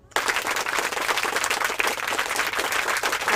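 Several hands clap and applaud continuously and briskly for a few seconds, starting abruptly, close and dense, with no talking over it.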